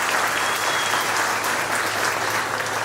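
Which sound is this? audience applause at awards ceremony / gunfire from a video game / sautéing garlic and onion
audience applause at awards ceremony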